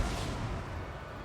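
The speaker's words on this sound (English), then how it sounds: "Oh, those cannons are no joke." Cannon artillery fires in a Total War battle, producing a dense, rumbling boom that fades over about a second with no voices.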